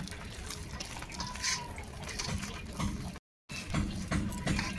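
A little water poured for palm cake batter in a home kitchen, a light trickling splash running over several seconds with a brief gap, under low background noise.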